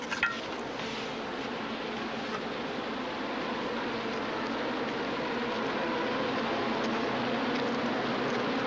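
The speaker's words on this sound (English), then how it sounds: "Grasshoppers." A swarm of grasshoppers fills the air with a dense, steady buzzing drone that holds constant and slowly swells, heard alone without speech.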